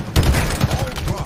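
Rapid gunfire in the video game Halo Infinite sounds as a dense, loud burst of shots over about a second, with a voice faintly underneath.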